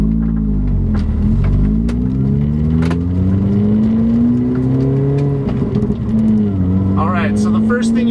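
A 2005 Mini Cooper S John Cooper Works R53 with an aftermarket Invidia N1 exhaust drives along, its engine droning steadily and rising and falling in pitch, close and loud, with a voice talking faintly near the end.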